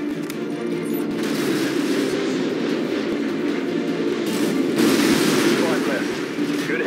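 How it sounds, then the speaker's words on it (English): AGM missile strike in Modern Warfare 2 spec ops, a dense rumbling barrage of blasts and rattling gunfire that swells louder midway and stays steady and heavy throughout. "the AGM missile is online."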